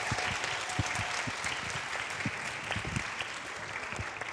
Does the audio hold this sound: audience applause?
yes